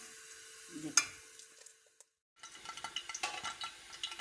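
Oil bubbles and sizzles as pakoras fry in a pan over low-to-medium heat, a clink of a utensil near the start, a brief pause, then the frying resumes with crackling pops.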